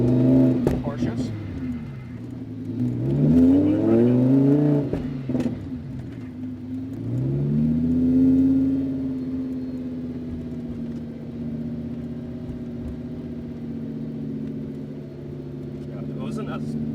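A race car engine revs and shifts up through gears while driving on the Las Vegas Motor Speedway track, loud and near, rising and falling in pitch with speech over it.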